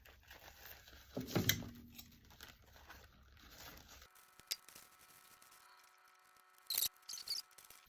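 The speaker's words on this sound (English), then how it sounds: "I'm going to cut away our napkin" Scissors cut away a paper napkin at close range, with short crinkling snips and rustling of paper, followed by quiet handling of the material.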